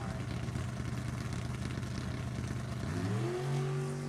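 A 98 Mullis chassis dragster at a drag race, its engine droning steadily then rising in pitch as it accelerates, loud and close with no speech.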